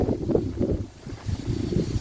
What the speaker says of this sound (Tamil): காத்து அடிக்குது பாருங்க, ஆளையே தூக்குற மாதிரி காத்து அடிக்குதுங்க